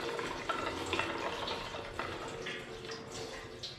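Liquid pours in a continuous, hollow, gurgling splash into an old Minneapolis-Moline tractor's rusty gas tank, filling the whole short span at a moderate, even level with no talking.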